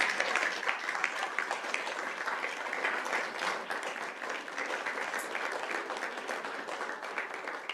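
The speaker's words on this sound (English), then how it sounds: "they deserve a big round of applause" Crowd at a school district governing board meeting giving a long round of applause for two students, steady and moderately distant, continuing evenly throughout.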